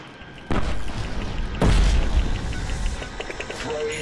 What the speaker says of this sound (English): Time for a grenade to be in there.